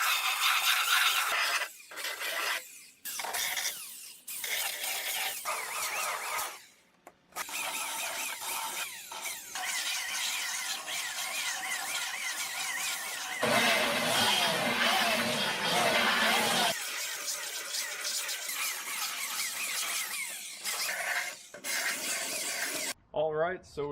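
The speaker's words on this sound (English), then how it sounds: "go back over to the seat pieces and do some sanding on these to get them prepped and ready to do the gel coat paint" Bench seat pieces from a Bayliner boat restoration are sanded by hand ahead of gel coat, a steady raspy rubbing that runs in long stretches with brief pauses and shifts in stroke.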